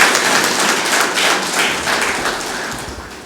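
An audience claps at a political public assembly, a lok sansad: steady, fairly loud and dense applause from a crowd, fading slightly toward the end.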